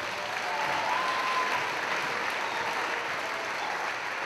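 An audience at a Harlem Wizards show applauds, a dense, steady roar of many hands clapping that holds at an even level throughout, heard from within the crowd.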